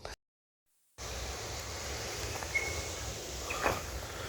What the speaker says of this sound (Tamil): எங்கேயோ தண்ணி சத்தம் கேட்குது.